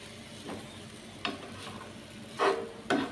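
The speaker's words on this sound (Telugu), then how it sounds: "పిండి వేడెక్కింది, ఆయిల్ టేస్ట్గా కాలుతా ఉంది." Jowar flour chapati cooks in oil on a pan, giving a faint background sizzle broken by a few sharp crackles and spatters spaced irregularly, close by and with no talking.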